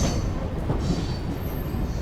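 A MEMU passenger train, number 67204, rolls into Nellore station with a steady loud rumble of wheels on rails and a faint high squeal from braking wheels, continuous and close.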